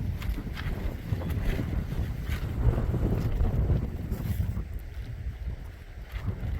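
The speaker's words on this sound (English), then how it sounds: "A little breezy though" Wind gusting across an open grassy knoll at a hillside campsite, a continuous rumbling buffet of breeze against the microphone with rising and falling gusts and no voices.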